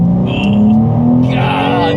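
Tuned BMW G80 M3 with about 750 wheel horsepower accelerating at full throttle, a loud close engine note rising steadily in pitch, with voices talking over it inside the car.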